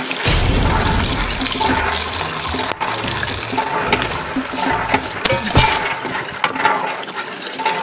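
Water gushes and runs loudly and continuously close by, like a toilet flushing or a tank filling, with a few knocks and splashes breaking through the steady rush.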